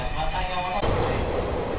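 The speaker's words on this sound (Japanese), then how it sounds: "ですが列車はそのホームに下館側から入線してきます。" A Kanto Railway train pulls slowly into a station platform, a close steady rumble of wheels and motors with a tonal hum that shifts midway as the cars roll past.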